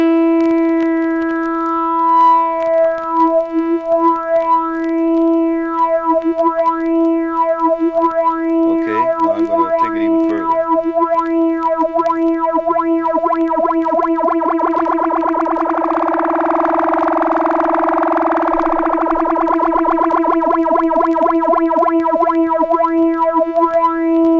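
A sustained electric tone with rich harmonics swept by a Mu-tron Bi-Phase phaser pedal, the swirl deepening and widening midway, steady and loud without any voices.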